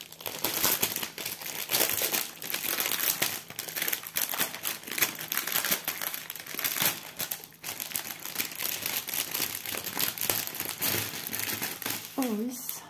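A diamond painting kit package is opened and unwrapped, with constant close crinkling and crumpling of plastic wrapping for several seconds, then a short voice near the end.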